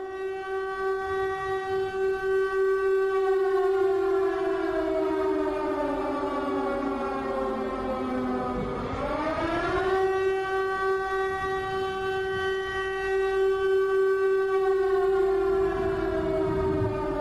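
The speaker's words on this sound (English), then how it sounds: "I began playing air raid sirens every day on the broadcast" A loud wailing air raid siren, played on a radio broadcast, holds a steady tone, dips low in pitch midway, then rises and sustains again, continuous with no talking.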